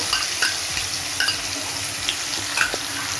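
Bottle gourd and green chilli paste fry in hot oil with a steady, close sizzle, broken by a few soft stirring clicks and scrapes.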